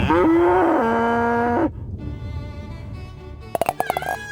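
Pedigree Hayling beef cattle by a golf course on the shores of Chichester Harbour let out one long, loud, close moo that cuts off abruptly, followed by quieter background sounds and a few sharp chirps.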